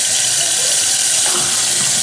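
Water runs from a kitchen sink faucet above a newly installed garbage disposal, making a loud, steady rushing hiss with no talking.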